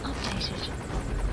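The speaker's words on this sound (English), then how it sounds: "Okay, chopper's right above us!" A helicopter hovers directly overhead in Metal Gear Solid 5: The Phantom Pain, a constant, loud rotor drone with some brief high whooshing on top.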